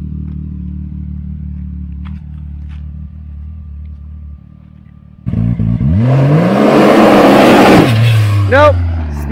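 Can-Am X3 side-by-side launching from a two-step, engine idling low before a sudden loud roar with tire wheelspin screech, revs rising then falling, with people talking nearby.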